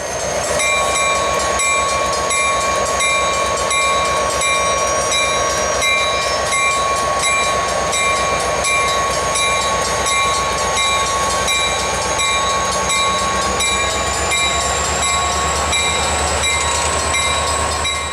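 St Lawrence & Atlantic freight train passing steadily at close range, a continuous loud rumble of wheels and cars with a sustained horn-like tonal drone throughout and no voices.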